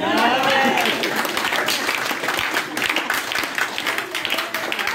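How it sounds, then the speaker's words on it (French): An audience at a spiritual authority seminar bursts into loud clapping and cheering for a woman, dense applause that tapers slightly over a few seconds. "On acclamons la femme."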